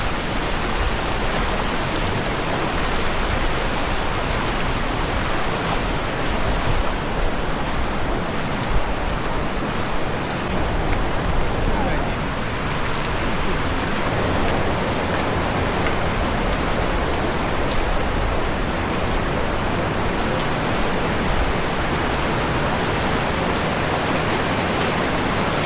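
Strong, fast mountain stream current rushing through the Kaptar-Kumush gorge in Uzbekistan, a loud, dense, unbroken roar of water that stays steady throughout with no voices.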